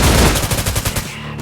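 Rapid bursts of automatic gunfire in the tactical military shooter Arma Reforger, during a close-quarters building defense against Russian forces, loud and near, a dense string of shots that stops abruptly, leaving a quieter tail.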